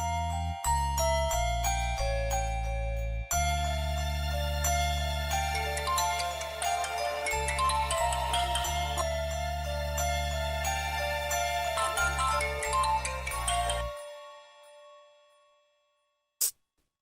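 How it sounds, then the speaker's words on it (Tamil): Phone ringtone playing during an unanswered call, a bright electronic melody of chiming tones repeating steadily for about fourteen seconds, then fading out, followed by a single short click. "அம்மா போன் கட் பண்றாங்க மில்கி மேன்."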